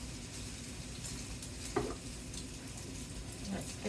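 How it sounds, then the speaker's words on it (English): Garlic sizzles gently in a frying pan as it is stirred, a soft steady crackle with a couple of brief scraping clinks, faint and without speech. "Give that a stir."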